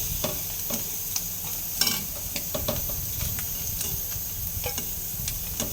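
Tilapia fish fries in a pan of hot oil with a constant, close sizzle, while sharp scrapes and clicks of a turner break through as the pieces are moved and lifted out.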